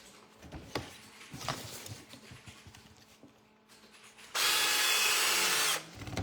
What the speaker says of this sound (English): Drilling hole, make it so y'all can see.